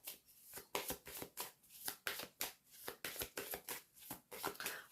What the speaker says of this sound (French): On va recouvrir les cartes qui ne sont pas très...